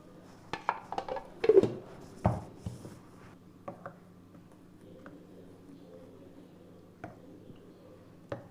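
A spoon clatters and scrapes against a bowl while dosa batter ingredients are stirred together, with a few sharp knocks early on and sparse light taps later in an otherwise quiet kitchen.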